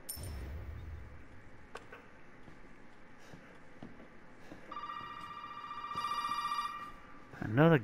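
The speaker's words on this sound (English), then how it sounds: "Another goddamn phone call." Telephone ringing inside the horror game Resident Evil 7 Biohazard, a tonal electronic ring rising over dim ambient rumble near the end of the moment, fairly close and moderately loud.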